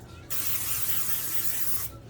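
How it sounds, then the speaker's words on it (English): Cooking spray hisses onto the bottoms of three cake pans in one continuous burst of about a second and a half, close and clear, with no talk. "I'm going to spray the bottoms of all 3 of the pans"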